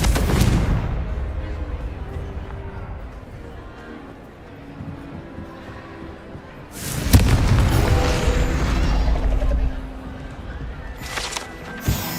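Confringo blasting spells explode in Hogwarts Legacy, with a heavy booming burst at the start and another loud blast midway, set in a dense rumble of combat noise.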